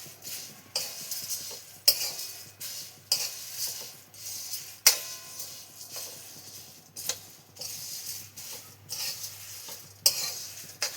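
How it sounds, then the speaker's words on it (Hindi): Whole spices (black cardamom, green cardamom, cloves, black pepper and nagkesar) stirred and dry-roasting in a pan, with a steady faint sizzle and repeated scraping strokes of a spoon against the metal, close and without talk. "इन सबको भून के हम साइड में निकाल लेंगे।"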